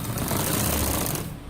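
A sewing machine stitches the cuff of a men's kameez sleeve with a fast, steady, loud mechanical whirr up close, running continuously for over a second before stopping abruptly.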